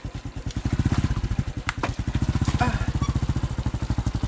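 A motorcycle engine chugs in a steady rapid pulsing rhythm as it labors along a slippery rocky road, loud and close throughout, with brief knocks and clatter over the running engine.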